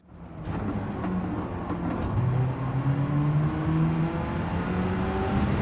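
RE Amemiya FD3S RX-7 on the Nurburgring GP circuit in a racing game, its rotary engine held on throttle and rising steadily in pitch as it accelerates, a sustained loud drone with no voices.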